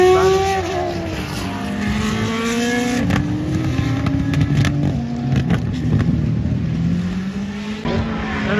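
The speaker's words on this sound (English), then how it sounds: "And the F1 cars, holy moly." Several Formula 1 race cars scream past in quick succession at a racetrack, high-pitched engines rising and falling in pitch as they pass, loud and continuous.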